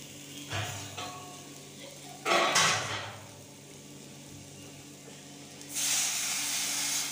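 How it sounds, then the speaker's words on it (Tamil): Water poured into a hot pan of egg gravy sets off sharp bursts of hissing steam and sizzle, one near the start, a louder one midway, and a sustained hiss at the end, with quieter simmering in between. "இப்போ கொஞ்சம் தண்ணி ஊற்றிக்கலாம்."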